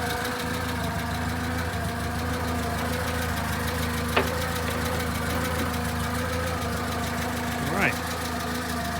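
A 1948 Crosley CoBra wagon engine idles steadily at close range, a low, even drone with a couple of brief clanks or ticks over the running motor.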